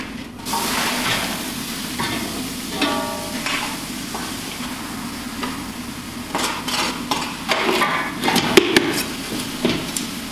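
Crushed ore being roasted over a fire, stirred and scraped in a pan with a steady sizzling crackle and occasional sharper metallic knocks and scrapes, close up, with no talking.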